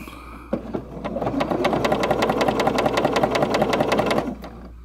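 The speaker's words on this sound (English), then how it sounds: "that's the sewing machine" A Husqvarna Viking Jade 20 sewing machine starts with a click and runs at a steady, fast stitching rhythm, loud and close, then stops near the end; no talking.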